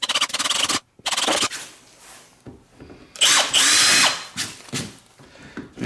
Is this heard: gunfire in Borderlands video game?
no